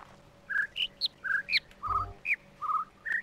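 Bird chirps from the video game The Witness, a steady series of about a dozen short, bright tweets and whistled calls spaced evenly over a few seconds, clear and close with no talking.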